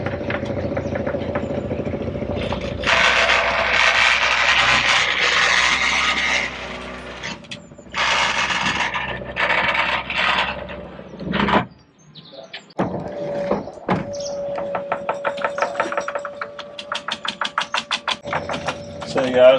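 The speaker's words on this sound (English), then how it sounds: "So yeah, stainless steel chain driven drive with hydraulic motor." A boat chairlift on a Dazcat Power 15 catamaran, a chain drive turned by a hydraulic motor, runs with a steady whine and mechanical rattling, stopping and restarting with clicking ratchet-like bursts, with people talking over parts of it.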